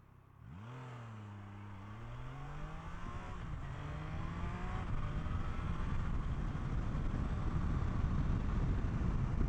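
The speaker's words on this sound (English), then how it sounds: "This is a mid-sized bike, pushing 80 horsepower, which is, you know, middle of the range for a road bike" A mid-sized road motorcycle of about 80 horsepower revs while lane splitting in traffic, its engine note climbing in rising sweeps and settling into a loud, steady drone close by, with no talking.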